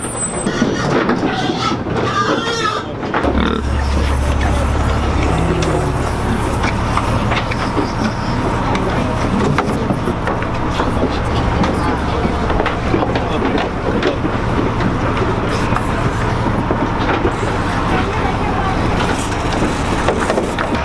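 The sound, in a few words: truck packed with pigs pulling up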